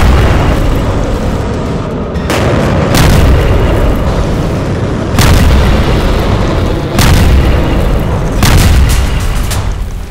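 Missile strikes on an underground weapons factory in Syria produce a sequence of heavy, rumbling explosions, several loud booms landing every couple of seconds over a continuous roar.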